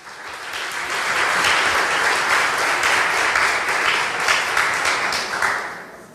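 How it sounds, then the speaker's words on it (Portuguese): Church congregation applauds in a loud, dense burst of clapping lasting several seconds, with no talk over it. "Dê um aplauso a Jesus."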